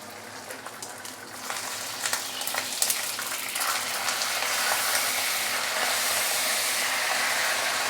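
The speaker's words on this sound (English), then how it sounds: "We can actually remove the banana leaves and continue to let it pan fry." Fish wrapped in banana leaves pan-frying for Malaysian ikan bakar, giving a steady broadband sizzle that swells louder over the clip, with a few scattered clicks and pops near the start and no talking.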